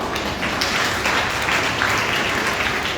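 Dense, steady applause from a large audience during a speech at an oath-taking ceremony, a continuous wash of many hands clapping with no voice above it.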